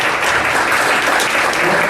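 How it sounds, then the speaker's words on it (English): An audience at a real estate company event applauds steadily, dense clapping filling the whole stretch at an even, fairly loud level with no pauses. "Big round of applause."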